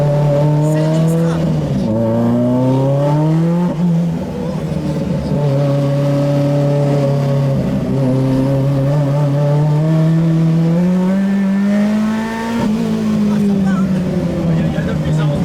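Renault 5 Turbo rally car with a driver at the wheel, its turbo engine droning loudly from inside the cabin and rising and falling through several gear changes. Someone talks over the engine noise.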